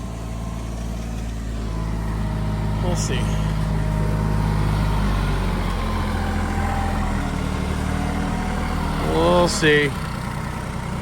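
A tractor engine holds a steady mid-pitched drone while it pushes over a tree, with people talking over the running motor throughout.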